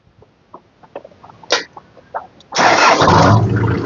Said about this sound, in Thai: ใครที่อยากสตาร์ทแบบเท่ๆแบบไม่ต้องเหยียบคลัตช์นะครับ